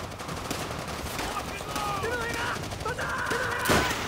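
Gunfire during a co-op match of the World at War video game, a dense run of rapid shots under a busy battle mix of chirps and whooshes, with one louder crack near the end.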